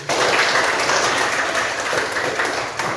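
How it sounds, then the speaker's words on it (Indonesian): A group of classmates claps together in a room, a dense burst of applause that starts abruptly and holds steady for a few seconds before briefly thinning and picking up again. "tepuk tangan dulu."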